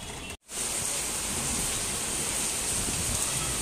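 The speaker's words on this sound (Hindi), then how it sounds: "तेज हो गई है बारिश, तेज हो रही है धीरे धीरे।" Heavy rain pours steadily onto a rooftop as a dense, loud, even hiss, briefly cut out near the start and then continuing unbroken without talk.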